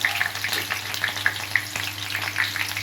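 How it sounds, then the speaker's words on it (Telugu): Onion frying in a pan for stuffed brinjal curry, a close, bright crackling sizzle with frequent sharp pops over a constant low hum, no talking. "ఇప్పుడు 1 ఉల్లిపాయ వేస్తున్నాను."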